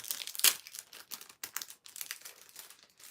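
Plastic packaging is peeled off Smiler goggles from Alton Towers, giving close, crisp crinkling and tearing in quick irregular bursts, with one sharp louder rip near the start.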